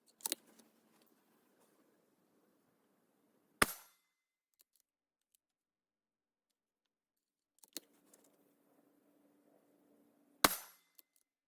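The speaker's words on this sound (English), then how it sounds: "we're gonna get started with 12 grains" Three sharp 300 Blackout rifle shots with a 12 grain H110 test load fire at an outdoor range, spaced several seconds apart, each a crisp crack that dies quickly, with faint handling clicks in between.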